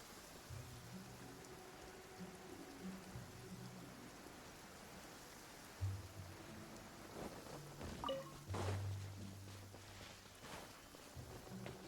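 Steady rain falls in the video game Genshin Impact, a continuous wash of drops with a few louder splashes and rumbles partway through, heard alone without talk.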